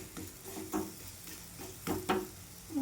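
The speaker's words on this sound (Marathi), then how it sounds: "छान शेकून घ्यायचं तेल टाकून किंवा तूप टाकून किंवा लोणी टाकून." A layered paratha fries in oil or ghee on a pan over a low gas flame, with a soft, steady sizzle broken by intermittent scraping and tapping of a spatula, close by and with no speech.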